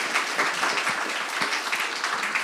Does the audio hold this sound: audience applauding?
yes